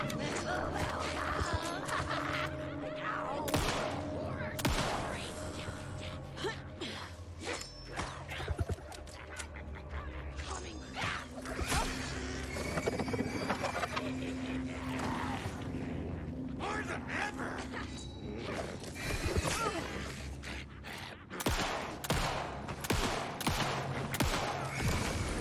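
Gunfire in the video game Alan Wake II, repeated sharp shots scattered irregularly through a dense, busy game soundscape with music and effects underneath.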